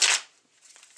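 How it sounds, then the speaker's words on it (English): A deck of cards riffled briefly up close, a loud burst of shuffling at the start, then quieter light flicks and a final short riffle. "So I'm just going to shuffle them."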